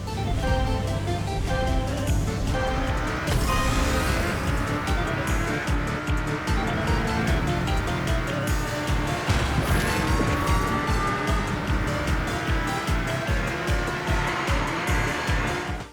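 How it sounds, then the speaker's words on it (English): Loud, continuous roar of racing car engines in the video game Horizon Chase 2, revving and shifting, with whining pitch sweeps and occasional tire squeal, steady throughout. "I'd like the car engine noises to be a bit more throaty"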